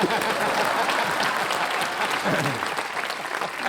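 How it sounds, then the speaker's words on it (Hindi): Loud, sustained applause from a TV comedy show studio audience, a dense patter of clapping that continues steadily throughout. "जोरदार तालियां"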